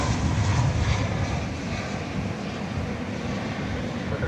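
At night at DFW Airport, an American Airlines flight from Omaha arrives with a continuous airliner engine roar, strongest at the start and easing slightly, with no voices.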